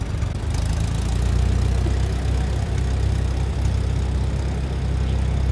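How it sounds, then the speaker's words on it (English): A restored 1949 Case LA tractor rolls past in an outdoor parade, its engine giving a steady, loud, low idling rumble with a continuous throb throughout. "A beautiful Case LA tractor."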